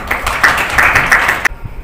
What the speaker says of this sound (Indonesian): Tepuk tangan untuk Naomi.